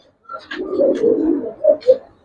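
Old-breed Gribaz and silver pigeons coo close by, a soft throaty rolling coo followed by two short, louder bursts.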